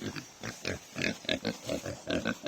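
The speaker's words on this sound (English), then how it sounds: "Hey, big pig." Pig on a farm grunting in a quick run of short, close snorts and oinks that come in uneven bursts, with a voice speaking briefly over them.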